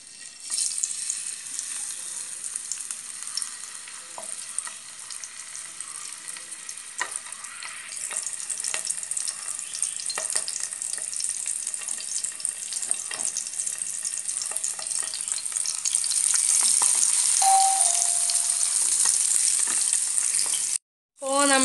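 Pieces of avoli (pomfret) fish fry in hot coconut oil, making a loud, continuous crackling sizzle that builds slightly over time and breaks off with a short gap near the end.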